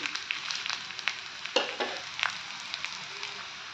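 Thalipeeth, a flatbread, frying in a little oil over a low flame, giving a steady soft sizzle with faint crackles and a few stirring or scraping touches, heard up close.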